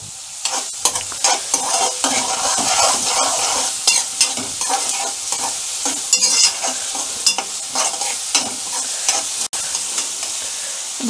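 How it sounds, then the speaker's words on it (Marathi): Salted onion sautés in a pan on a gas stove turned up high, a steady close sizzle broken by frequent scraping stirs of a spatula, with no voices. "छान असं कांदा परतून घ्यायचा. गॅस थोडा फास्ट करायचा."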